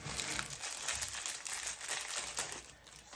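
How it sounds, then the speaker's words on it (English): Plastic bag crinkling and rustling close up as a wrench is pulled out of it, a continuous run of crackly handling noise with no talk. "I'll take it out of the bag"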